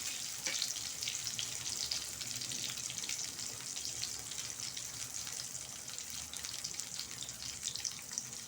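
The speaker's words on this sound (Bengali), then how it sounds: "বেগুনগুলো গ্যাস কমিয়ে আস্তে আস্তে ভালো করে ভাজা করে নিতে হবে" Eggplant slices fry slowly in a pan over low gas, giving a steady, dense sizzle that runs unbroken throughout, close and fairly soft, with no voices.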